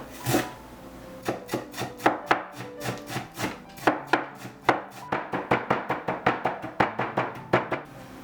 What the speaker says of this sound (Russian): Убираем пеньки и нарезаем мелко. Укропчик свежий.